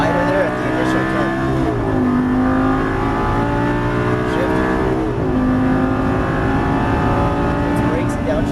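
A Lamborghini Gallardo LP550-2 pulls hard around a race track, its engine note rising loud and close, dipping at two gear shifts before climbing again, with an instructor's voice heard over the roar.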